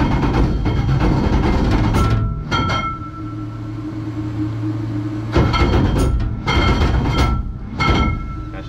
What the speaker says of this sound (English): That's just the starter.